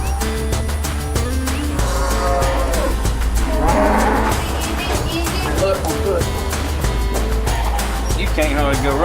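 Cattle on a ranch, handled by cowboys on horses, low and loud throughout, with mooing and lowing calls rising over the herd's steady rumble and other animal noises.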